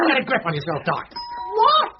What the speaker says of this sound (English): Oh, I think that's the doorbell.